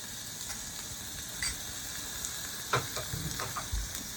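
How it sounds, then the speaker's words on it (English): Minced onions saute in a pan with a steady, fairly quiet sizzle, broken by a few soft clicks and scrapes of stirring. No one speaks. "I'm going to start sauteing that to get some aromatics going."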